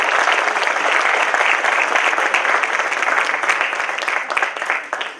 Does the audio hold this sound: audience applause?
yes